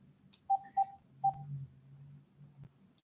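Telephone keypad dialing tones sound as a few short, evenly pitched beeps in an irregular sequence before one more beep at the end. Faint background noise fills the gaps between them.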